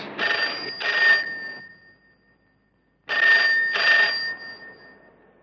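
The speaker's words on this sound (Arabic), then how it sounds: "طب تعالي ورد على التليفون" A telephone rings in two clear bursts of double rings, loud and close, separated by a couple of seconds of silence in an indoor setting.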